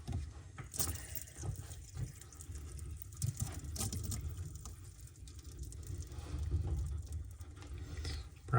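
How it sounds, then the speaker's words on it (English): Water trickles from a cut supply pipe beneath a bathroom sink, a thin continuous splashing and dribbling that runs for several seconds with small uneven surges and no talking. "Got a little bit of water coming out."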